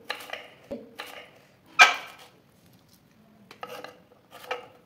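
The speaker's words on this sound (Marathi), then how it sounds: "भेंडी चिरून घेऊया आपण." A knife chops washed okra (bhindi) on a board, slitting one side of each pod for stuffing; several sharp, close taps come in uneven bursts with quiet gaps between.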